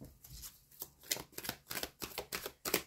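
Tarot cards shuffled for a square spread, a quick series of crisp papery riffles and slaps in a steady rhythm, close and fairly quiet.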